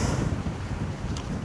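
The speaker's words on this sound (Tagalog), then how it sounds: "Ganyan kalakas na hangin, no?" Strong wind buffets the microphone at a motorcycle campsite near a tent, a loud, steady roar with no pauses.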